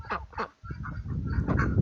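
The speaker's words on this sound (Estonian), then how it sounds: "Need on meie 2 parti." Two ducks, a white female and a black male, quacking close by in a quick run of nasal honking calls, loud and unaccompanied by speech.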